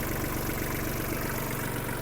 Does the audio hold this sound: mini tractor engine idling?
yes